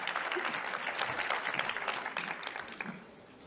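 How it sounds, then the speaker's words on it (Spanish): Audience applause breaks out at a conference panel session, steady dense clapping from a seated crowd that continues for a few seconds before thinning out near the end. "La recibimos con un aplauso."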